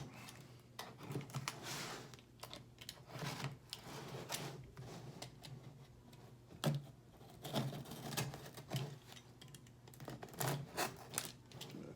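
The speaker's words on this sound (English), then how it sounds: "Just when you think you're done cutting through the tape, there's more tape behind it." A blade slices repeatedly through packing tape on a cardboard box, giving irregular close rips, pops and crinkles at a moderate level with no talking.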